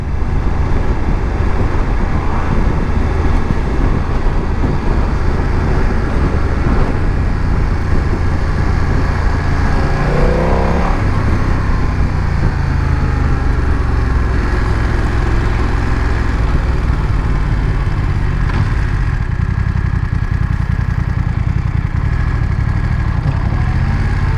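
A BMW F900 XR motorcycle engine held around 3000 rpm while riding, a steady close-up drone mixed with constant wind rush that never lets up for the whole stretch.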